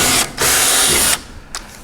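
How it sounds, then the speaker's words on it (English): Power drill with a 1/8 inch bit boring a pilot hole, two loud whirring bursts with a brief pause between them and a short blip at the end. "Go ahead and drill it out."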